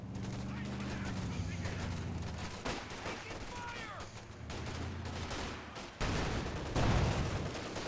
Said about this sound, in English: the Puma with his machine guns actually works rather well versus the infantry